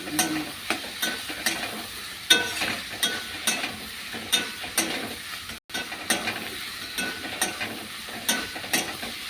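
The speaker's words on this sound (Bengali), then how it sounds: "মাছগুলো দিয়ে দিলাম। ওর সাথে কষলে তবে ঝাল মশলাগুলো উঠে দেবে।" Dried fish frying with hot spices in a pan, a steady sizzle broken by repeated sharp scrapes and clatters of a spoon stirring, close and fairly loud.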